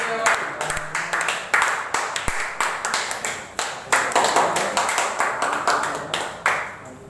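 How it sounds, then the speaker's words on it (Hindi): An audience claps for Shilpa at a Modicare family gathering, a loud, rhythmic run of clapping in regular pulses, close and uneven, with voices talking over it. "जबरदस्त ताली आनी चाहिए शिल्पा के लिए।"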